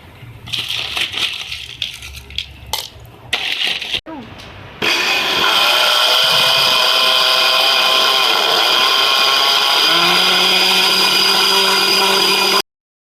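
Banana, milk and ice are whirred together in a blender for lassi. It begins with a few bumps and knocks of ice and jar, then a loud continuous motor roar whose pitch shifts as the mixture smooths, stopping abruptly at the end.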